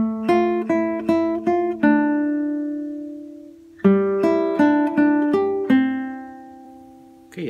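An acoustic guitar plays a phrase from a song in two runs of quick plucked notes, each ending on a long ringing tone, clear and close with no voices.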